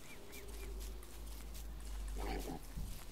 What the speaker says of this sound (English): Alright, well, we have a pig king.